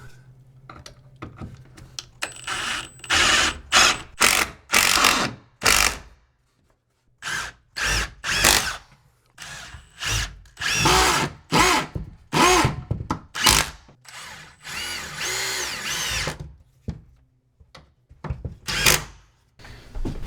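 A power drill drives a screw to mount a PEX bracket for a shower mixing valve in a bathroom remodel, buzzing in repeated bursts of one to two seconds separated by short pauses, loud and close.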